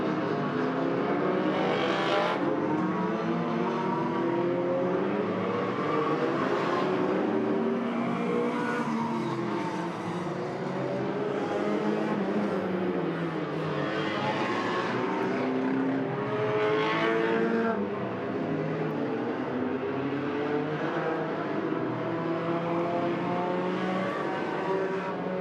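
Hornet race cars circling Agassiz Speedway in a BC enduro roval championship, engines droning and revving continuously as several cars pass, with rising and falling pitch sweeps and occasional tire squeal.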